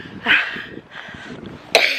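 Two short, harsh coughs, one early and one near the end, with quiet breathy sounds between them and no talking.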